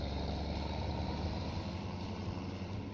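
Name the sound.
tractor driving past, from video game Farming Simulator 17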